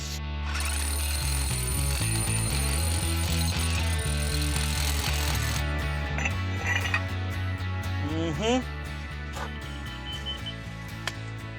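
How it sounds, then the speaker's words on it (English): A power drill bores into timber while a lakeside dock and deck are built, a loud, sustained motor whine that shifts pitch as the bit bites and eases, running steadily from start to finish. "Let's drill."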